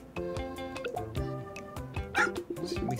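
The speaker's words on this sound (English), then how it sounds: "Stevie did a big fart and barking at Quincy." A dog in a pet-raising video game barks and yips at another dog in a short run of bright woofs, layered over upbeat game music, close and clear.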